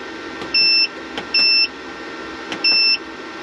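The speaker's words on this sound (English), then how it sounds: "The beeping is normal when it starts up." Three short electronic beeps from a solar charger starting up in a camper van, each a sustained tone lasting a fraction of a second, spaced about a second apart over a low steady hum.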